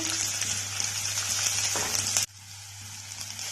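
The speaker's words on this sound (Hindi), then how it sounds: "और चॉप्ड ऑनियन डालेंगे।" Chopped onions hitting a hot pan with green chilli for veg American chop suey, a bright, close hissing sizzle that cuts off abruptly, then quieter low sizzling resumes.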